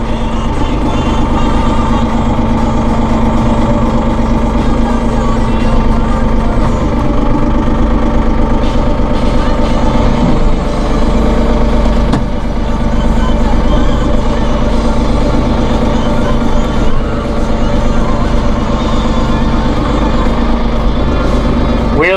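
A Massey Ferguson 1740M eHydro compact tractor with a deluxe cab idling, a loud, steady low engine rumble heard close up throughout, with brief mechanical shifts and a few spoken words over it.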